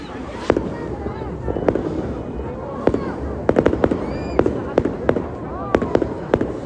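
Fireworks crack and pop at a distance in irregular bursts, sharp bangs clustering in rapid runs over a hiss of wind and background voices.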